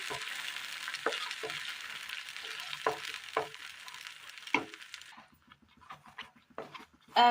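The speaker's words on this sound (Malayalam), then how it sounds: "നന്നായി ഒന്ന് ഇളക്കി കൊടുക്കാം." Food with boiled milk and cooked banana stirred in a pan, a spoon scraping in irregular strokes over a steady sizzle that fades after a few seconds, leaving sparse soft scrapes and clicks close by.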